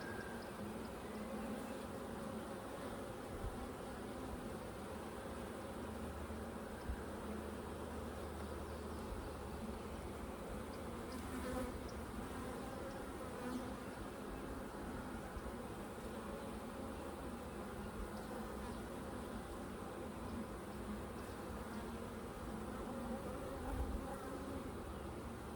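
Honeybees swarm around an open hive during a beekeeping inspection, a dense, steady buzzing drone that runs unbroken and close throughout, with no talking.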